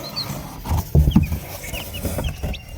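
Three baby chicks in a cardboard brooding box peep in thin, scattered high chirps, with soft scuffling and thumps of movement close by.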